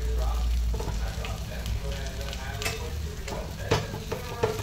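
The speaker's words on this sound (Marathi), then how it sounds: "आणि असं दोन्ही बाजूने आता चपाती व्यवस्थित भाजून घ्यायची." An egg-coated chapati fries in oil on a pan, giving close, steady sizzling with crackling pops and occasional scraping stirs.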